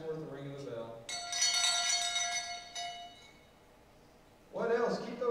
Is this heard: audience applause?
no